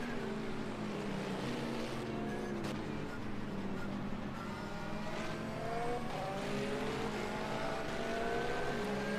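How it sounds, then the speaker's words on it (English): Onboard engine of a Porsche sports racing car in a sim race at Mid-Ohio, a continuous loud roar rising and falling through gear changes as it heads toward a corner, heard alone. "On board with the Porsche once again"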